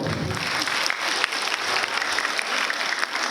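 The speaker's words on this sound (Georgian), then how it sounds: "ტაში მეგობრებო" Theatre audience applauding a fairy-tale stage performance as the cast is introduced, dense sustained clapping from a full hall throughout.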